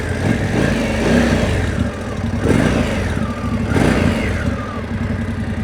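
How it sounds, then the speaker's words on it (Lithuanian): A 2026 Indian Scout motorcycle engine runs close by at a steady, loud rumble, with a few small rises in pitch as the revs lift. "Paspaudė mygtuką, užsiveda."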